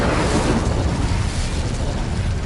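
An Incendio fire spell cast in Hogwarts Legacy, a dense roaring burst of flame that fills the whole clip loudly and evenly.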